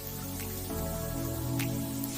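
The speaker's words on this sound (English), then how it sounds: "Good idea is to pour the water either in the center of the pan or go around it" Water is poured into a cooking pan, a steady, soft splashing and trickling stream running continuously and close, with no talking.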